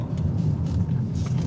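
A car rolls slowly over a speed bump on an ordinary road, braking then easing off and accelerating, giving a steady low engine and tyre rumble that swells faintly as the wheels ride over.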